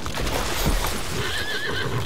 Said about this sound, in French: Ah, le cheval.